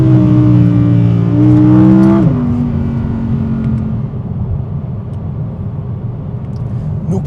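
Audi car cruising on a motorway, a loud engine whine that drops in pitch as the gear changes, then settles into a steady road and tyre rumble.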